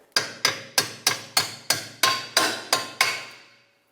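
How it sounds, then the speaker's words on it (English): Ten sharp metallic hammer blows drive a bolt through a rear shock absorber strut on a 2007-2010 Chrysler Sebring, in a steady, even rhythm, close and loud, each ringing briefly before the next. "hammer the bolt through the whole way"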